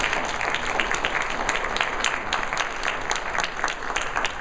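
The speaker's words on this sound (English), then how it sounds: "How about a round of applause?" An audience gives a round of applause during a public forum with a school district superintendent candidate, a sustained, even patter of many hands at moderate distance, filling the room steadily without cheering.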